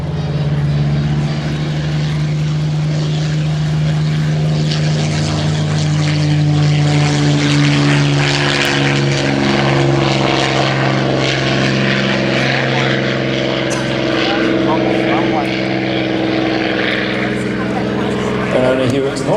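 A Spitfire's propeller engine running at the Temora aviation museum, a loud continuous drone with steady harmonic tones, close and sustained with people talking over it.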